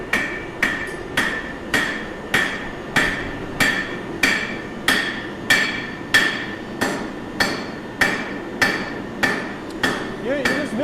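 Hammer blows strike hot metal in a blacksmith's forge, about a dozen evenly spaced sharp ringing hits in a steady working rhythm, close and loud.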